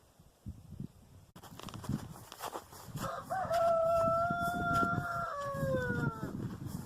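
A backyard chicken flock with a rooster crowing clearly in the middle, its long call trailing off, among scattered clucks, footsteps and rustling nearby.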